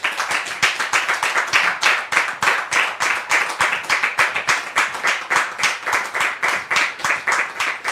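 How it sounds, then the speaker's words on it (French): Rhythmic unison clapping from a studio audience welcoming a guest to a French talk show, loud crisp claps in a steady even beat throughout. "très cher public, de recevoir ici Séraphin sous vos applaudissements."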